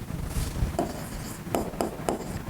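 Marker strokes on a classroom board during a physics lesson, a few short scratchy taps and squeaks spaced about half a second apart, close and moderately loud against low room noise.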